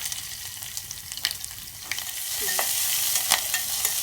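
Jeera seeds, curry leaves and garlic sizzling in hot oil in a hot pan, a loud hissing fry that builds toward the end, with a few scrapes and taps of a spoon and no talking.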